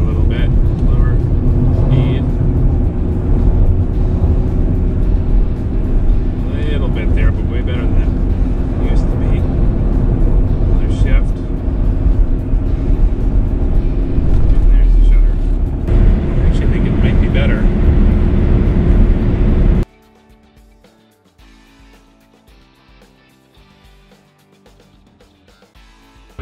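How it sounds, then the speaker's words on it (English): A 2008 Saturn Outlook with a shuddering, slipping transmission is driven with the transmission purposely bogged down. Engine and road rumble is heard from inside the car with a voice talking over it, then the sound cuts to near silence. "Purposely bogging down the transmission a little bit."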